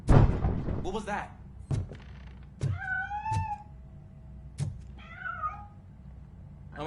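A cat meows in the RoboCop: Rogue City video game, with two or three clear, rising-and-falling meows spaced a couple of seconds apart, set among sharp thuds and knocks.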